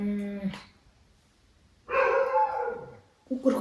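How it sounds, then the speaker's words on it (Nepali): A dog barks late at night, a few sharp barks and a longer bout of barking, fairly close and alone with quiet gaps between. "कुकुर कराउँदैछ फेरि."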